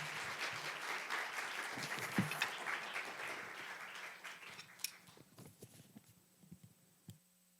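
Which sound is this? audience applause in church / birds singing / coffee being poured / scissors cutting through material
audience applause in church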